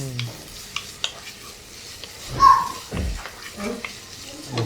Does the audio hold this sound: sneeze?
no